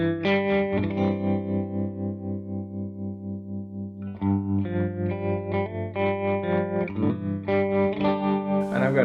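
Sustained electric guitar chords played through a Line 6 Helix tremolo effect throb with a steady, regular wobble, ringing out alone with a slightly distorted, effected tone.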